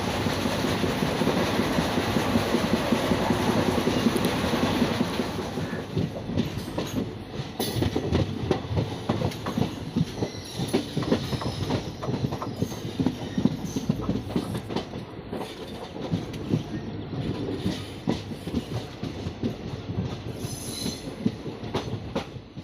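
A passenger train on the Udumalai to Rameswaram run rolls near Madurai, heard as a steady rumble with rhythmic clickety-clack from the wheels and occasional squeals, with no voices.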